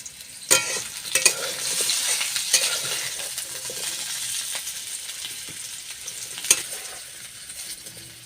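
Oil sizzles steadily in a pan while cooking a vegetarian papad curry, with a continuous bright crackle and a few sharp clinks and scrapes of stirring near the start and again later.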